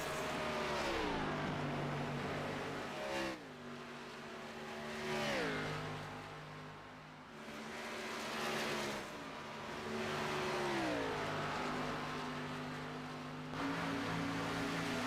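Several race cars from a Pro Cup series round at Indianapolis in a racing video game roar past in a close pack, engine notes rising and falling with repeated upshifts and downshifts, loud and continuous throughout.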